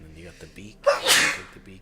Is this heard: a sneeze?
yes